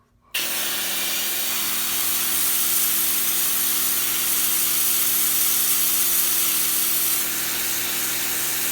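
A CJ125 battery-powered pressure washer kicks on abruptly and sprays in a loud, steady hiss while cleaning, holding constant for several seconds before easing slightly near the end, with no talking.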